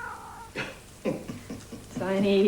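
A cat meows several times in short, rising cries, close and fairly clear, with a longer drawn-out meow at the end.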